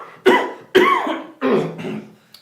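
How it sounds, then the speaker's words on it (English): A man's four harsh, rasping coughs in a row, close and loud, each burst fading before the next, with a brief click at the end. "how long have you had this cough"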